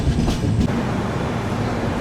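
The Tirumala Express 18522 rolls along on the Guntakal to Visakhapatnam line with a steady, loud rumbling roar of wheels on track, heard from inside with no talk.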